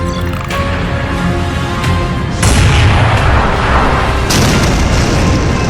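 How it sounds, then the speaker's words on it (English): Video game cannon firing during a zombie mutant raid, heavy booming blasts in sequence with sharp attacks and rumbling tails, loud and up front with no talk. "I don't think any creatures can survive under this cannon, unless he can dodge it."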